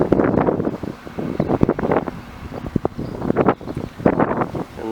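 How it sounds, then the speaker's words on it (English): Cold outdoor wind gusts hard against the microphone in a rural Australian setting, a loud, steady rumbling buffet that swells and eases in uneven waves. "Oh, that wind is really cold."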